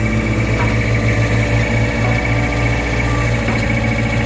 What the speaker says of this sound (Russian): Вот, собственно, такой экскаватор. Напомню, Mitsubishi MXR35. Работает хорошо.